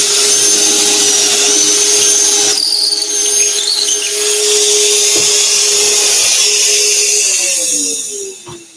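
Power drill boring pocket holes in wood through a pocket hole jig, a loud high whine sustained with brief dips in pitch as the bit loads up, close by and uninterrupted, winding down at the end.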